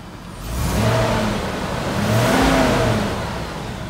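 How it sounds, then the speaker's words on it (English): The engine of a 2005 GMC 7500 forestry bucket truck revs up twice, rising and falling in pitch with a throaty roar, loud and close by. "rev it up a little bit"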